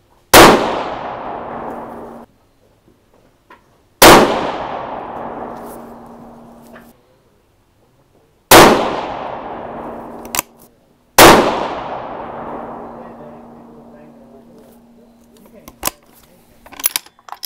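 Four loud 6.5 Creedmoor rifle shots, 140gr Speer Gold Dot hunting loads, fired a few seconds apart at a steel target, each sharp crack decaying into a long ringing tail with a faint metallic hum, plus small clicks between shots.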